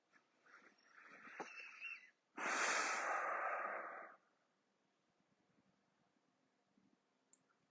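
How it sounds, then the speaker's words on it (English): Slow, even breathing through the nose during a gentle yin yoga stretch, heard as a close, soft inhale followed by a louder, fuller exhale, then quiet. "Even breathing through the nose."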